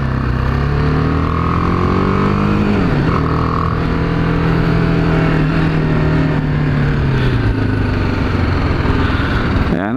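A BMW G 310 R motorcycle on a test ride, its single-cylinder engine droning loudly and steadily up close, pitch dipping briefly then holding as the bike rolls on, with wind rush underneath.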